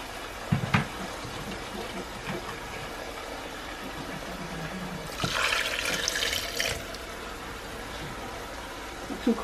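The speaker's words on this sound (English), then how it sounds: "I'm gonna add some more water to this bowl and mix it again." Water runs and splashes into a bowl while beef stew is being made in a kitchen. Quiet trickling carries a brief, louder gush in the middle, with a few small clinks around it.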